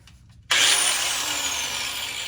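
An angle grinder fitted with a cutting blade slices through a muffler pipe on a Ford F350 truck. It kicks in abruptly after a short pause and holds a loud, steady, close-up grinding whine with no talk.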